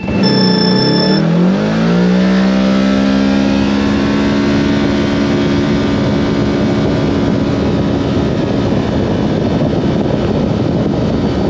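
A Kawasaki KRX 1000 side-by-side with JBS clutch weights, a Badass belt, 35-inch tires and a DynoJet tune accelerates hard. The engine note climbs steeply, then holds as a loud, steady roar from up close, and nobody speaks.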